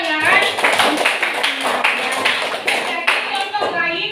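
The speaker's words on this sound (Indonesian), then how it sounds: "beri tepuk tangan" Lively classroom applause from students, fast irregular clapping that fills the whole stretch, close and fairly loud, with children's voices mixed in.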